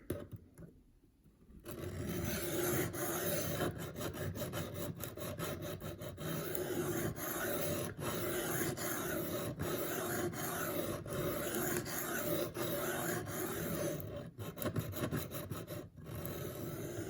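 Steady rasping strokes of an M4 steel Spyderco Gayle Bradley 2 blade drawn across a coarse 320 grit sharpening stone, continuous and close, with a brief pause near the start and rhythmic scraping throughout.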